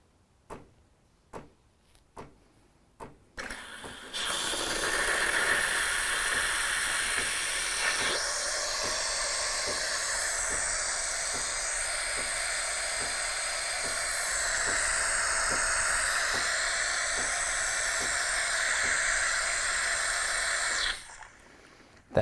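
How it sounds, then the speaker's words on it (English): An espresso machine heating up to steam temperature clicks a few times, then bursts into a loud, steady steam hiss that runs for about seventeen seconds under faint ticking before cutting off abruptly. "our lights are flashing up here just as the machine heats up to steam temperature"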